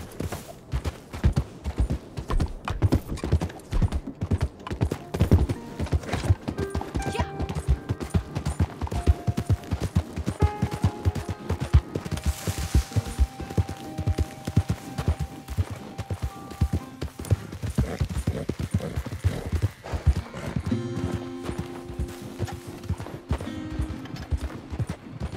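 Rapid, steady hoofbeats of a galloping horse in the video game Red Dead Online with bright game-style effects layered on top, loud and continuous throughout.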